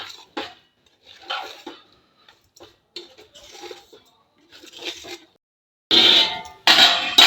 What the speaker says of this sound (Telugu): ఇంగ్రీడియంట్స్ అన్నీ కూడా బాగా మిక్స్ అయ్యేలాగా బాగా కలుపుకోవాలి.